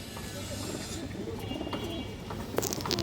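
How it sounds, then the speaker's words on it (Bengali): Pigeons coo softly at a loft selling pedigree racing and colour-breed birds, a red-tinged female among them, the low murmuring steady under background noise with a brief chirp near the end. "খুবই সুন্দর একটা বাঘা মাদি কৌতর লাল গেয়ারের"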